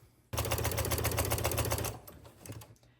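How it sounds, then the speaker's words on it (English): A sewing machine stitching a quarter-inch seam along a fabric strap made from a dish drying mat, a fast steady rattling run of stitches that starts abruptly, holds for about a second and a half, then slows and stops. "we're going to sew a 1/4 inch seam right along this edge the whole way down"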